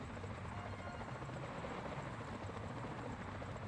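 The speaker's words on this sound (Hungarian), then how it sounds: "Helikopter." A helicopter flies overhead in a video game, its rotors a steady, even drone that fills the whole stretch at a moderate distance, with no voices over it.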